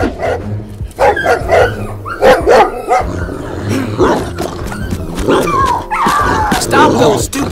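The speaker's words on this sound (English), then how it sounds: "Stop those stupid dogs!" Dogs bark repeatedly in the Roblox Brookhaven roleplay game, several sharp yelps and barks in quick bursts, loud and close, mixed with game sounds and people talking over them.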